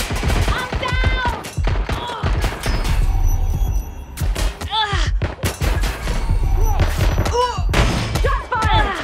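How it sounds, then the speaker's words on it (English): Gunfire in the video game Watch Dogs Legion: rapid bursts of shots and heavy thumps crackle across the whole stretch, loud and close, with shouted game voices and groans mixed in between volleys. "Target is firing."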